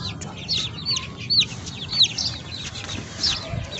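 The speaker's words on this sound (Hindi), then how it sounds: "अब चूजे आएंगे" Chicks and chickens cluck and peep repeatedly around a homemade pipe feeder, a busy flock of short chirps and clucks at close range with no talking.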